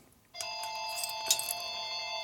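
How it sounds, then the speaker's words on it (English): A telephone rings in a workshop during a 1961 Harley-Davidson Sportster XLCH engine and transmission rebuild, a steady electronic ringtone that begins abruptly and continues at moderate loudness. "the phone likes to ring when you put them in there"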